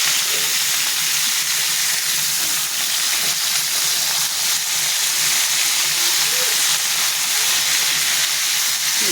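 Hilsa fish oil and fish heads frying in a pan, a loud, continuous sizzling hiss that holds steady throughout with no talk over it.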